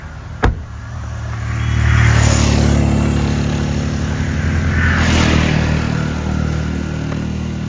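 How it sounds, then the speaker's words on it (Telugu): A motorcycle engine rises in loudness as it draws near, holding a steady drone, after a sharp knock at the start. "బైక్ వస్తుంది"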